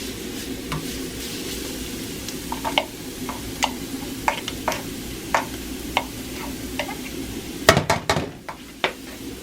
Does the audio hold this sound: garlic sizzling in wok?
yes